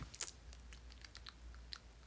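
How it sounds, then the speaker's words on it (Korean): Gum being chewed close to a microphone, soft wet clicks and smacks in an irregular rhythm over a low steady hum, with no talking. "근데 어떻게 껌 씹는 거를 그렇게 자연스럽게 하실까요?"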